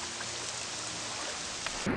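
Steady rain falling in the video game Morrowind, a dense continuous hiss at even loudness throughout, with a brief low thump near the end.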